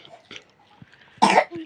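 A child coughs once in a short, loud burst at home, preceded by faint throat sounds and fainter earlier coughs, with quiet adult voices nearby.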